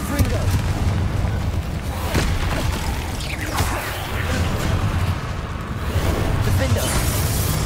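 A Confringo blasting spell goes off in the Hogwarts Legacy video game, a loud booming, crackling blast with rumble and debris that carries on for several seconds under continuous game noise.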